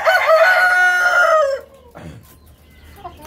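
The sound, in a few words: BLRI Hilly chicken rooster crowing and clucking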